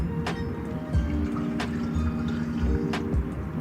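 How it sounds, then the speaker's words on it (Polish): Extraction petrol poured into the lower leg of a Fox Float 36 bicycle suspension fork, a close trickling pour with gurgles and a few sharp drips against a low background hum. "Wylejemy sobie teraz benzyny ekstrakcyjnej najpierw do jednej goleni."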